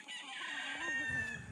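Hens at a gamefare farm give a drawn-out, rising-and-falling clucking call, faint and somewhat distant, with low rustling beneath and no talk.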